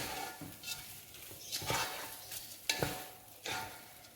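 Food being stirred and mixed in a pan, with a soft sizzle under scattered scraping strokes and a few sharper utensil knocks against the pan at close range; no voices.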